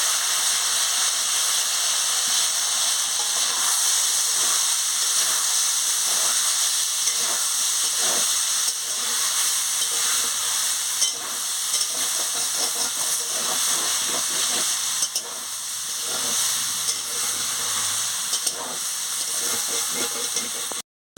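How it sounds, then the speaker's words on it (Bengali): Soybean chunks and potato fry in hot oil in a pan, making a loud, continuous hissing sizzle with occasional clinks and stirring knocks throughout. "তেল গরম হয়ে গেছে, আমি সোয়াবিন আর আলুটাকে ভালো করে ভেজে নিচ্ছি।"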